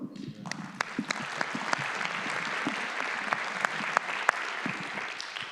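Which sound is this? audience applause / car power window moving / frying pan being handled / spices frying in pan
audience applause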